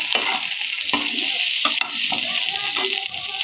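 Potato, pointed gourd and green banana fry in leftover fish oil, giving a loud, close, continuous sizzle broken by repeated scraping stirs of a spatula against the pan.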